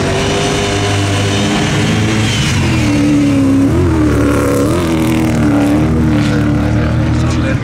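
Subaru and other 4x4 cars in a Hill Climb Latvija drag race, engines droning loud and steady with rising, wavering revs throughout, under a commentator's voice.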